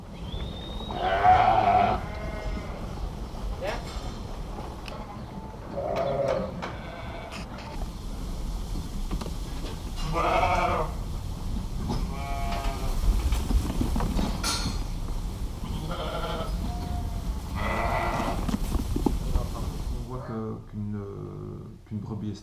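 Meat sheep and ewes in a Belgian handling pen, several bleats rising at intervals over a steady background of shuffling hooves and pen noise, with people talking throughout.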